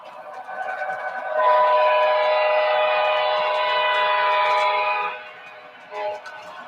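A model train horn with a foghorn-style tone sounds one long, steady, loud blast lasting several seconds, then stops, followed by a short fainter toot.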